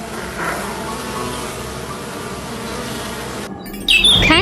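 A bee buzzes steadily, loud and close, for several seconds, then a short squawking call cuts in at the end.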